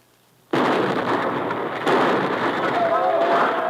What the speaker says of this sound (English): Jan uncorks both grenades and lobs them down beside the fence.